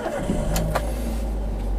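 A used car suspected of flood damage starts from a dead engine: a brief starter crank, then the engine catches and settles into a steady close idle hum.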